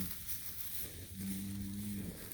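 A cow moos once, a low drawn-out bellow lasting about a second, amid constant breezy outdoor noise at a cattle farm where a herd is being moved.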